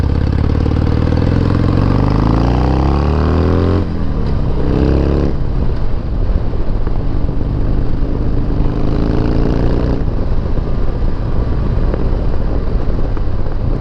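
A Harley-Davidson XL883L Superlow V-twin is ridden, its loud, rumbling engine note continuous and close, rising and falling in pitch as the throttle shifts, with steady wind noise throughout.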